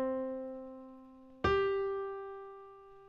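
Two sustained tones a perfect fifth (seven semitones) apart, played as separate notes: a held note, then a sharper second note struck at the midpoint that rings and slowly decays, alone and fairly quiet.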